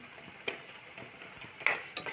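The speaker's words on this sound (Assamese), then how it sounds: "মছলাখিনি ভাজি ল'ম।" Spices with onion and five-spice seeds frying in oil in a wok, stirred with a utensil: steady faint sizzle under a few sharp scrapes and clinks of the spoon against the pan.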